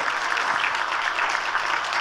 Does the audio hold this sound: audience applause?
yes